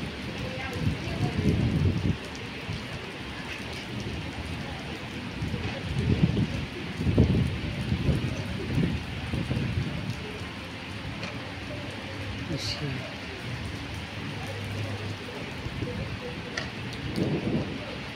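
Constant rain hiss with low, rolling rumbles of thunder swelling now and then, while a voice talks intermittently over it.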